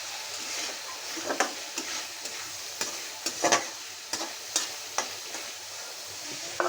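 Prawns fry in a cooked-down spice paste for a prawn and taro-stolon curry, with a steady low sizzle broken by repeated sharp scrapes and clacks of stirring, close and clear with no talking.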